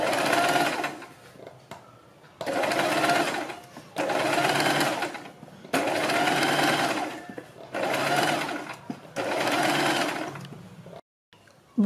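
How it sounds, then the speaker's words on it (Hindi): A sewing machine stitches along buckram around a fabric neck design, running in five loud bursts of steady whirring separated by short pauses. "बीच में सिलाई लगाने के बाद हम बुकरम के बिल्कुल बराबर में पूरे गले के ऊपर सिलाई लगाएंगे।"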